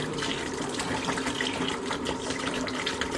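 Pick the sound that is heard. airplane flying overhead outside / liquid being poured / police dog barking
liquid being poured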